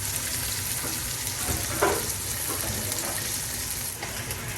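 Pierogies frying in a crowded pan, a steady dense sizzle held at an even level throughout with a faint bump of stirring in the middle.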